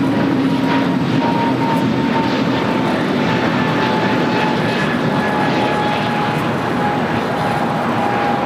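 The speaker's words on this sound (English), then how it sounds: "Japan Airlines in the One World livery, flight 16, 777-300ER, coming from Tokyo Haneda" A Japan Airlines Boeing 777-300ER in oneworld livery, flight 16 arriving from Tokyo Haneda at LAX, gives a steady, loud jet engine roar with a faint whine that holds evenly throughout.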